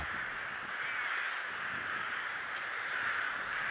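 A large flock of rooks caws continuously in the distance near their bamboo-grove roost, a dense chorus of overlapping harsh calls.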